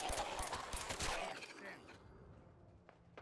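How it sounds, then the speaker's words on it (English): A quick volley of gunfire in the video game Fallout 4 crackles at the start, then fades into quieter background sounds with a faint later pop. "Oh, gunfire."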